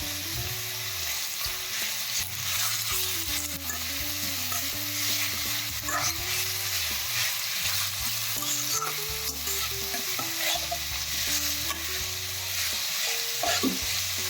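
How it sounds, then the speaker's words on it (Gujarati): Grated bottle gourd sautéing in ghee for halwa, a continuous close sizzle with scraping and stirring sounds over a low steady hum, no talking. "બધું જ ખમણ એડ કરીને એને સાતળવાનું છે"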